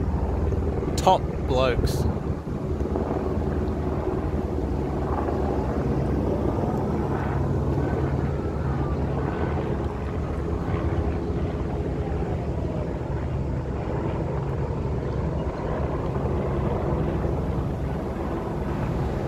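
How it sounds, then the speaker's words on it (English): A US military helicopter passes over a bushfire zone at Bargo, NSW, a steady distant rotor and engine drone under wind, with someone talking briefly near the start. "I think that's a US chopper"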